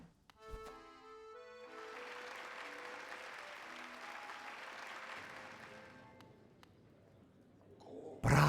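A crowd applauds in the game Hollow Knight: a moderately loud burst of clapping that swells and holds for several seconds, then tapers off, framed by chiming musical tones.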